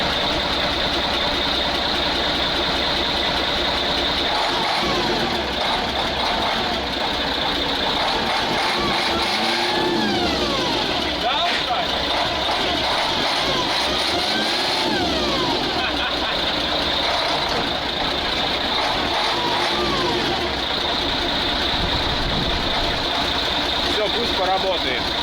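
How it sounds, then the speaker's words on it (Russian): A Praga V3S diesel truck, recently flooded, runs steadily with a rough, loud engine note and rises in several revs, while someone talks over it. "после утопления начала хорошо на газ отзываться. Смотри! Как настоящий дизельный автомобиль."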